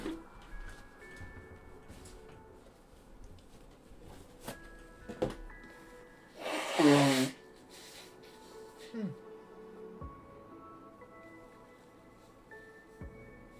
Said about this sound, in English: Oh, I gotta blow my nose.